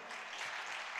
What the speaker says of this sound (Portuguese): Você pode dar um aplauso, louvor a Deus